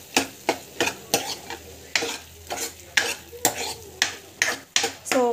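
Tomato thokku sizzles in a pan while a spoon stirs it in quick, regular scraping strokes, close and moderately loud, with the frying hiss running steadily underneath.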